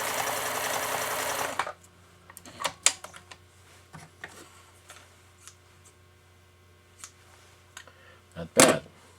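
A model 1229 sewing machine being repaired and rebuilt hums loudly while sewing a blind stitch in left-hand needle position, then cuts off after about two seconds, leaving scattered quiet clicks and a sharp clunk near the end.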